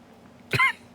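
A single short cough, fairly close and clear, against a quiet room with a faint steady hum.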